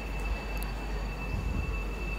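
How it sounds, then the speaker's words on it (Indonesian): A Whoosh high-speed train arriving from Halim at a station, a steady loud rail rumble with a constant high whine running throughout, close and without talk. "kereta api cepat rangkaian yang datang dari Halim"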